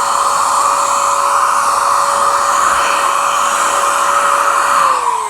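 Spray coating bursts out of an aerosol nozzle in a loud, continuous hissing rush held steady for several seconds, with a thin tone that dips slightly near the end.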